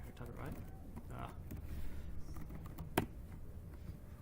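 Quick keystrokes on a computer keyboard come as soft, scattered clicks, with one sharper tap near the end. The typing is faint and close, under a quiet room.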